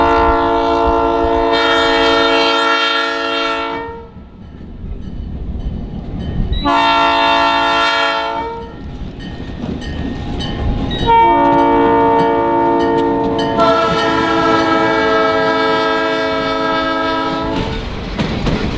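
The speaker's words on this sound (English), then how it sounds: "The Caboose Train returned, pulled by Southern Pacific" Southern Pacific 1518 diesel locomotive hauling a caboose train at a railway museum, sounding several long, loud chords on its horn in separate blasts over a steady rumble and rolling wheel clatter.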